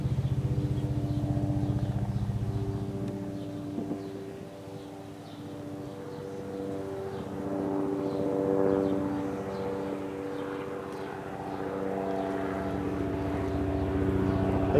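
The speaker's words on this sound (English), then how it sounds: "A lot of news helicopters all over the place." Helicopters drone overhead with a steady, layered rotor and engine hum that fades and swells over a quiet outdoor scene, moderately loud and without talk.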